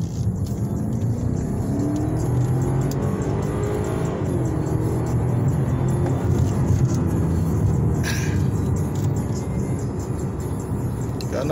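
A BMW 550i GT accelerating, heard from inside as a loud, steady engine rumble and road roar that rises slightly as the car pulls, with no talking.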